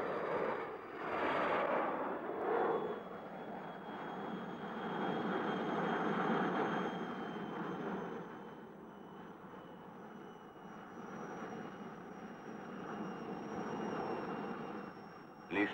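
Alouette turbine-powered helicopter flying in a mountain setting near Mont-Blanc, a steady droning engine roar with a high turbine whine that holds loud and even throughout, no voices.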